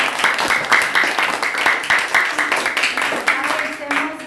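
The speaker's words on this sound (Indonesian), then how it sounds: "tepuk tangan kamu kelompok tiga" Classroom clapping from students praising a group, rhythmic hand claps in a loose beat, fairly close and loud, with voices chattering underneath.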